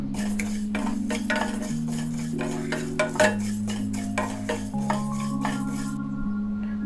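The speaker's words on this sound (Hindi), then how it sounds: "धनिया, जीरा, मिर्ची को ड्राई रोस्ट करेंगे।" Coriander, cumin and chillies dry roasting in a pan, with steady scraping and stirring of spices and occasional metallic clinks of a utensil against the pan under a continuous tonal hum.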